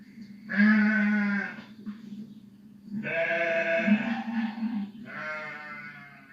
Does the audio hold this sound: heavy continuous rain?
no